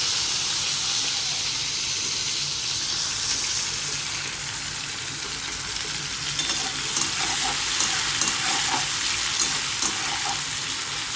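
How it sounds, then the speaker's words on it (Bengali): Chopped onion sizzles steadily in hot oil in a home kitchen pan, a continuous close frying hiss with light scrapes and taps of a spatula becoming more noticeable toward the end. "তেলটা গরম হয়ে গেছে, আমি পেঁয়াজটা দিয়ে দিলাম।"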